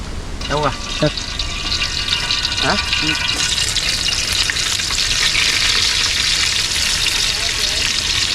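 Curry leaves and a bay leaf sizzle and crackle loudly in hot oil for a tempering at an outdoor village cooking spot, a steady dense fry running throughout with a few short voice-like tones near the start.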